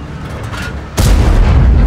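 A World of Tanks tank cannon fires with a single heavy boom about halfway through, its dense low rumble continuing loudly to the end over a quieter background hum.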